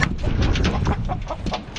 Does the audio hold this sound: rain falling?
no